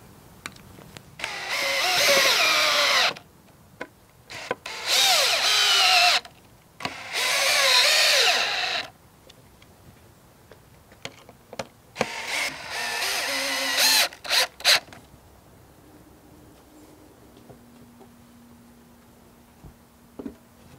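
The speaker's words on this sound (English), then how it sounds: "we're going to go ahead and screw in our screws." A power drill whirs in several bursts of a couple of seconds each, driving screws into wood for a sawhorse with short pauses between, followed by a few lighter clicks and knocks.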